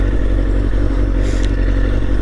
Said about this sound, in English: I'm checking my mirrors, I'm reducing my speed, I'm downshifting, I'm looking through my turn